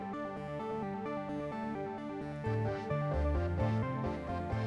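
Synth part from the Champions of the Universe soundtrack played back in Pro Tools: layered sustained tones with a rhythmic bass line that steps up louder about halfway through, steady and unaccompanied by talk.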